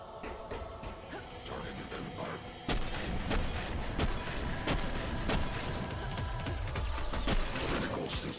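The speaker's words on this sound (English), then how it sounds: "Someone shooting at me." Gunfire in the Sprawl first-person shooter video game comes as repeated sharp, heavy shots with booming impacts, loud and close, firing in an irregular rhythm over continuous action noise.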